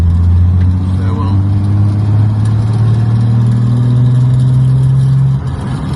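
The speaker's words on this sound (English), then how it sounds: "the Mini's going really well" A classic Mini that has just passed its MOT, with slightly soft brakes, runs with a steady close engine drone that climbs gently in pitch before easing off near the end.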